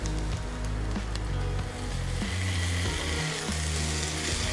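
Beef brisket stir-fries with softened onion and carrot in a hot pan, a dense, loud sizzle with low rumbling scrapes and shuffles as the pieces are tossed, continuous and close.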